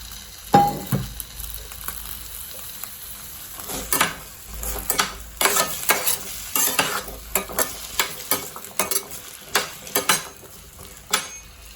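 Onions and tomatoes sizzle softly in a pan of oil for a ladies finger kuzhambu while a spoon stirs and scrapes, with irregular clinks and clatters against the cookware.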